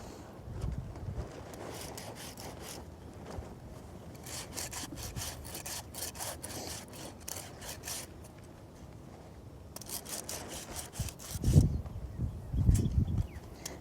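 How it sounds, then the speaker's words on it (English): A farrier's rasp files a horse's hoof in repeated rough rhythmic strokes, close and clear, in bursts with short pauses between passes. "I'm pulling backwards on my rasp."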